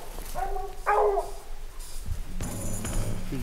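A hunting dog that has treed a mountain lion in Wyoming barks a few times in short bursts, fairly close, with some whimpering yips mixed in against outdoor background noise.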